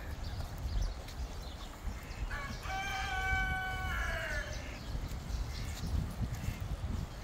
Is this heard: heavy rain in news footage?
no